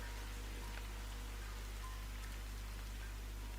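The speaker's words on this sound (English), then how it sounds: "And it's raining outside." Winter rain in Andalusia falls outside, heard from indoors as a steady, faint, even hiss of drops with no other sounds.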